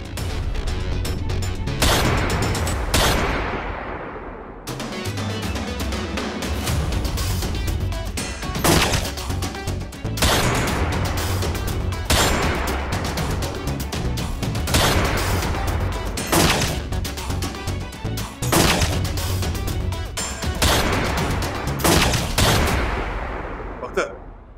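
Sustained bursts of gunfire fill a TV drama scene, with rapid volleys repeating loudly and almost without pause from start to finish.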